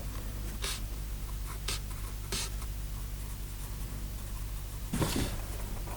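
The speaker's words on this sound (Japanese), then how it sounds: "これは薄墨のグレーのペンで、グレーの上にさらにちょっと濃いグレーを描き足しています" A light gray ink pen scratches across paper while adding darker gray shading to a dragon sketch, producing close, dry strokes in short bursts with pauses and a longer flurry near the end, heard alone.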